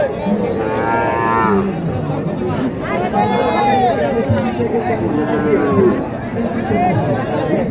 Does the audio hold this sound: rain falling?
no